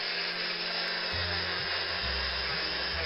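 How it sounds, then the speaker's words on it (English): A small part of a Wilesco D40 steam tractor is polished on a powered buffing tool, giving a constant loud hiss with a low motor drone that shifts pitch as the piece is pressed in. "Polishing another part, though I think it's a bolt or something."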